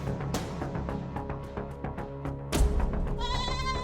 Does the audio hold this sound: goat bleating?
yes